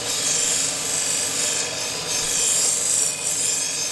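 Knife blades being sharpened by a professional knife grinder ahead of Eid al-Adha, a steady, continuous grinding rasp running the whole time with slight swells, loud and close, no voices.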